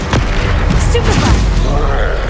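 A Stupefy spell cast in combat in Hogwarts Legacy, a loud burst of magical impact with a booming low rumble under shouted voices, lasting the whole short moment.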